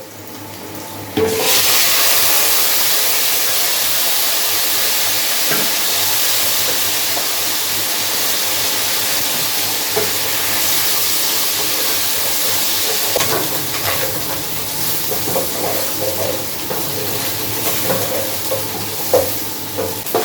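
Beef sizzles and fries in a pot for Peshawari beef pulao, a loud steady hiss that starts abruptly after a second and continues for the length of the clip, with occasional clinks and stirring sounds and no talk.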